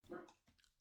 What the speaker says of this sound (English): My doggy was barking.